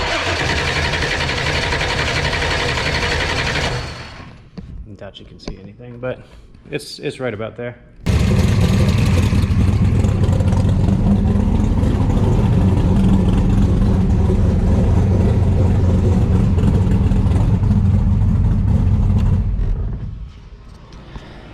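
A twin-turbo small-block Ford V8 in a Fox-body Mustang cranks and catches, then runs at a steady idle loudly for several seconds before cutting out; someone speaks briefly near the start.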